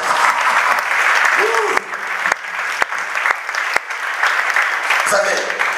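A church congregation bursts into sustained applause during a sermon, dense clapping filling the whole stretch with a few sharp claps and scattered voices or cheers rising through it.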